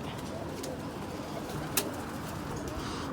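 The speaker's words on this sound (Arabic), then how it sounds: "الطير طبعا شبعان تنق" A pigeon coos softly from nearby on a hunting outing outdoors, its low murmuring calls running under steady background hiss, with one brief sharp click partway through and no talk.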